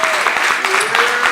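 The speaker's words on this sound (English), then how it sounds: "So a round of applause for all the previous award winners tonight," A crowd at a charity awards event applauds previous award winners, a brief spell of clapping heard alongside a voice and some cheering.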